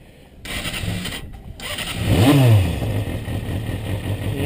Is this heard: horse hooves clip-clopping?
no